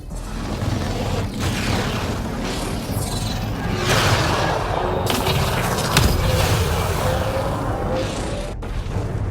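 A sustained, rumbling explosion of an enemy ship in Mass Effect Andromeda, with loud booms and whooshing debris swelling over continuous roaring space-battle noise and a sharp burst near the end.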